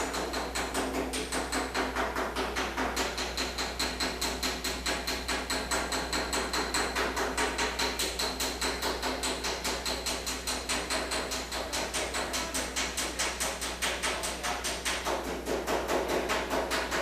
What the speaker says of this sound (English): I'll flatten out the rough edge left by the tin snips with a hammer and dolly.